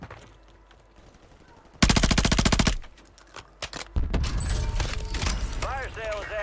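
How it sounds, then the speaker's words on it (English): Automatic gunfire in the Warzone battle royale game erupts as a rapid, loud burst of evenly spaced shots, followed by further shooting and game effects under a voice calling out. "Enemy fire, watch it!"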